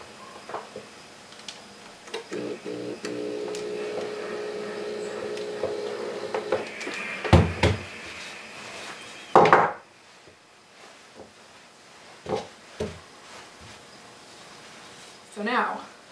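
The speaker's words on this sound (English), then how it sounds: "I'm going to use my little clapper again" A wooden sewing clapper presses a fabric seam open for a Christmas tote, giving a few sharp, close wooden knocks and taps, some spaced out and separated by quiet pauses.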